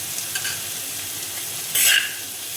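Chopped onion and capsicum sizzle in melted butter in a pan, a steady broadband frying hiss with a louder burst of crackling near the end as they are stirred; no one speaks.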